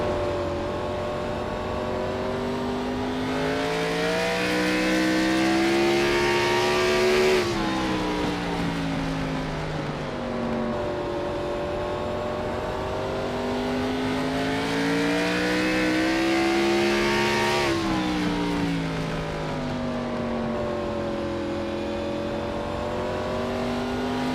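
Onboard race car engine for the number 24 of Thomas Bressi on an oval lap, a loud continuous roar that rises and falls in two long cycles of rev and lift through the corners.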